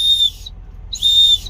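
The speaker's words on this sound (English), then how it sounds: "And then I have a whistle in it. Now this is just a cheap one from Walmart" A cheap plastic Walmart whistle from an everyday-carry pack gives two short, shrill blasts separated by a brief pause, close and loud with nothing else heard.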